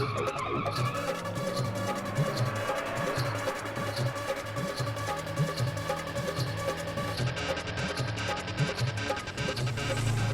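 A car driven fast hums with a steady engine drone and rhythmic, pulsing throb across the whole stretch, loud and continuous, with no voices over it.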